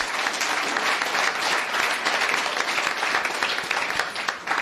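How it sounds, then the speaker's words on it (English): Loud, dense applause from a room of Republicans at a U.S. Senate primary debate, sustained clapping filling the space without a break. "Can we have a nice round of applause for all of that?"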